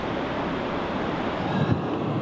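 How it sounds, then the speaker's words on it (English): A river flowing past a campsite in Alaska, a steady broadband rush of water mixed with wind, close and continuous with no voices. "I'm a sucker for that sound of the river."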